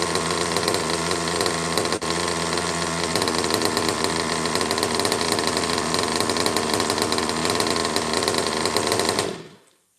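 A small RC model engine runs with a loud, buzzy, high-pitched drone, close and steady for about nine seconds, then cuts out abruptly.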